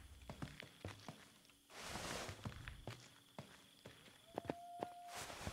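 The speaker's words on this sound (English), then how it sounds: "I don't like hearing other footsteps" Footsteps in the horror video game Home Sweet Home 2, a steady series of soft, distinct steps pacing along at moderate distance over a quiet ambient hum, with a brief whooshing swell partway through.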